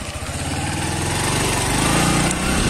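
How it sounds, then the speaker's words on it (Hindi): A motorbike engine runs steadily close by, its low throbbing hum holding at a constant loud level as the bike rides along a road in a Rajasthani village on the way to a salon. "तो नवीन चला रहा बाइक"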